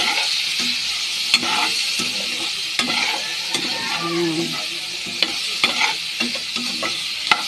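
Tomatoes and onions sizzle steadily in a hot pan for binagoongang baboy while a utensil stirs them, with soft scraping clicks scattered through the frying.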